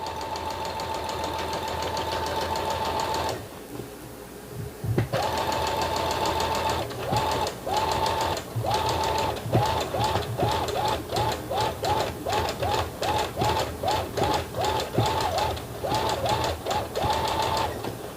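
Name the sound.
sewing machine stitching fabric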